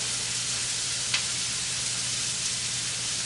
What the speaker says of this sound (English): I'm going to put these in here first because I want to get them good and sauteed